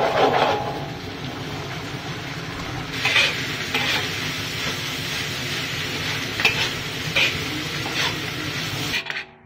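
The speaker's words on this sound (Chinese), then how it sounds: "我们再把这个干笋放进来炒" Dried bamboo shoots stir-fried in a wok, with a continuous sizzle and repeated scraping strokes of a spatula against the metal, close and fairly loud throughout before cutting off at the end.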